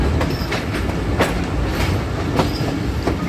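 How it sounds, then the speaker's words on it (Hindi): A passenger train rounds a curve as it approaches platform 4, with a continuous close rumble and rhythmic clickety-clack of wheels over rail joints, without talk. "आप देख सकते हैं पूरी ट्रेन कर्व ले रही है।"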